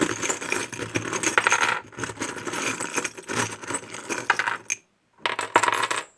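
Small metal charms shuffled and mixed by hand for a weekend reading, with continuous close clinking and jingling in uneven bursts, a brief pause, then more rattling, with no talking.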